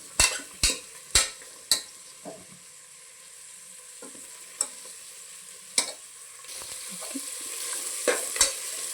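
Ingredients for tomato bath frying in a pan: a soft continuous sizzle with sharp spoon-on-pan knocks and scrapes of stirring, several quick taps early and scattered clacks later, close and fairly quiet.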